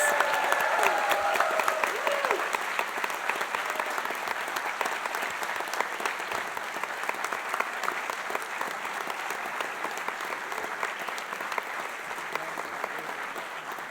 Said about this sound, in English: Let's have another round of applause for all of our graduates.